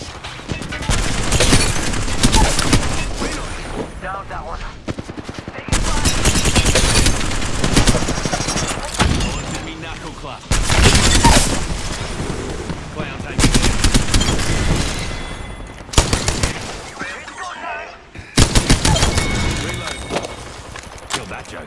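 Dense, heavy gunfire in the third-person shooter Fuse, sustained volleys broken by short gaps, loud and close, mixed with crashes and under occasional voices.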